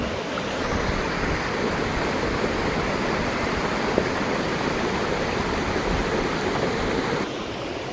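Waterfall at Cherrapunji in Meghalaya, water flowing along and plunging down, a steady dense rushing roar that holds evenly and close throughout with no voices.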